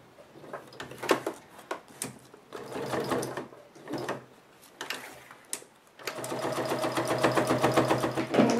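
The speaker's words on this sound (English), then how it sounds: "Now we're sewing our second piece of Velcro," Sewing machine edge-stitching Velcro onto a DIY clutch bag, a close rapid mechanical clatter that starts and stops in short runs, then settles into one steady continuous run of stitching.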